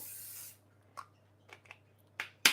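Spray oil misted onto a freshly cleaned pan in a home kitchen, heard as a hiss that fades away, a few small clicks and taps, then a final sharp, close spray burst.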